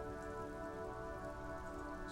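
Steady rain falls throughout in the detective role-playing game Disco Elysium, a dense, even hiss with low rumble and a few tonal hums beneath it, continuous and without speech.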